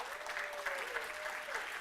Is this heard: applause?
yes